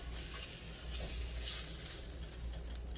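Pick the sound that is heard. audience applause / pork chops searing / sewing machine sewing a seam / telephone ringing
pork chops searing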